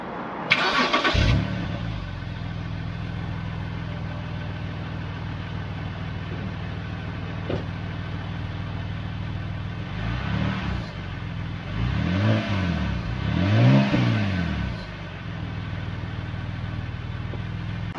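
A BMW 330i E90's N52 engine cranks and starts, settles into a steady idle, then revs up a few times in short bursts before dropping back to idle.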